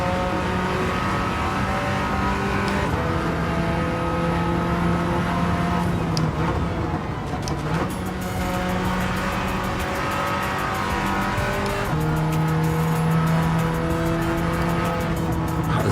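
A road car's engine in the Gran Turismo 7 racing game, loud and close, holding steady tones that shift as gears change, with brief dips and sharp rises in pitch and a hard rev near the end.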